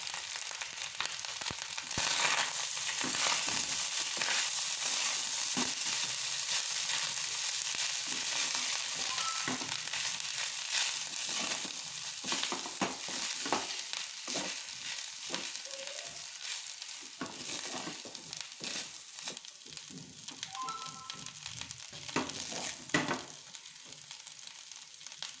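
Pepper, cumin and fennel fry in a pan with a continuous close sizzle, broken by repeated scraping and stirring strokes of a spoon.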